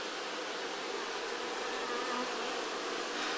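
Honeybees buzzing steadily at a hive in a spring apiary, a dense continuous hum of many insects close by, with no speech.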